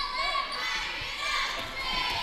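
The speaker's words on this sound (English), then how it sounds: "Got a pretty decent crowd out here this evening from Raider Gymnasium." A crowd fills a high school basketball gymnasium at Raider Gymnasium during a varsity game, with a steady murmur of voices and shouts, occasional sneaker squeaks and ball thumps on the court.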